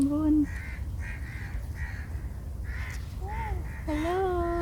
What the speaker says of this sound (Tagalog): Uy, ang daming ibon.